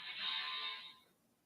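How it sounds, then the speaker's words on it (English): A cell phone rings out in a courtroom during trial testimony, a bright electronic tone lasting about a second before fading away, with no talking over it. "Please silence your cell phone."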